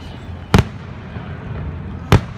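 Fireworks at the 2017 Stanford fireworks show burst twice in sharp, loud booms about one and a half seconds apart over a steady outdoor crowd murmur.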